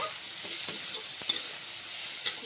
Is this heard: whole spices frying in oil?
yes